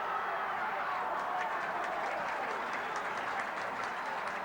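Rugby league crowd at a 1982 Manly versus Canterbury match roaring and applauding a break downfield, a dense sustained wall of cheering and clapping at even strength.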